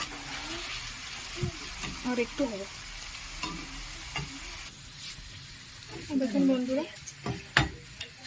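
Shredded potatoes fry in hot oil for wedding-style crispy aloo bhaja, a continuous soft sizzle broken by scraping stirs, while someone talks over it.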